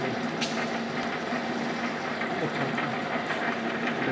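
A horizontal milling machine runs on automatic feed with its indexing wheel turning, a steady loud mechanical drone with a rough rumbling texture and one faint click early on, no talking.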